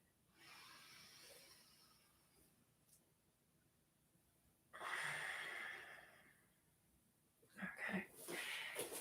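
Slow, deep breaths during a yoga session, a long soft exhale early on, then a louder drawn-out breath and a final pair of audible inhales and exhales, all close and quiet in an otherwise still room.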